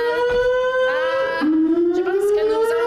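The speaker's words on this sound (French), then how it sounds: "c'est la sirène" A wailing siren with a rising and falling pitch sounds steadily and fairly loud, with other tones overlapping in the background.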